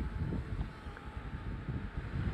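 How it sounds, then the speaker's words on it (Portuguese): Wind buffets a microphone outdoors near a Mavic Air drone, a low, continuous rumble and rushing that surges and eases over a couple of seconds. "Olha só o vento que está"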